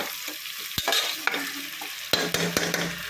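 Sizzling and frying in a pan while stirring cooks ginger-garlic and tomatoes for roadside-style chicken biryani, with a few sharp spoon scrapes and knocks against the pan over a steady hiss.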